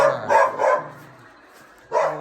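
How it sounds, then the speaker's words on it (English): A dog barks three times in quick succession, then pauses briefly before a fourth loud bark, close by with no talking. "There is a dog down here, so don't mind his barking."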